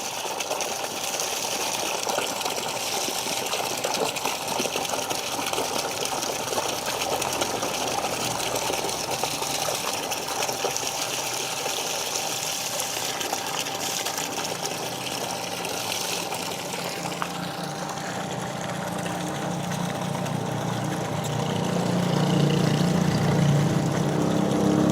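Shimizu shallow well water pump running steadily while drawing and pushing water at a strong flow, a continuous close motor whine and rushing gush that swells louder near the end.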